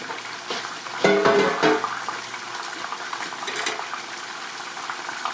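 Water runs steadily from a kitchen tap while food is rinsed during cooking, with a louder splashing surge early on before settling into a constant, even rush.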